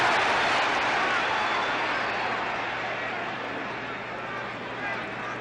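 A boxing crowd at a 1967 heavyweight title fight in an arena roars as punches land, a broad loud surge of cheering that eases slowly, with an announcer talking over it.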